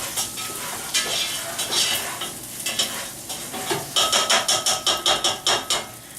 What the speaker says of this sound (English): Make sure you keep stirring the rice. You don't want it to burn.